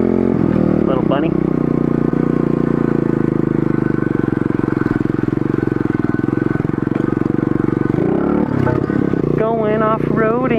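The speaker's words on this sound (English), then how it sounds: "Going off-roading on my pit bike." A pit bike rides off-road with a loud, steady engine drone that holds close and constant, then revs and shifts near the end, with some clatter from the ride.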